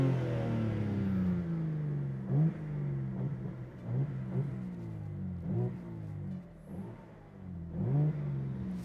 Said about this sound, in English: we're gonna put it in M mode to open up that exhaust system.